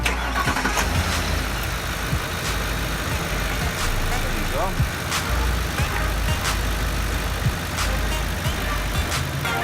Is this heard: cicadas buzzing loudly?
no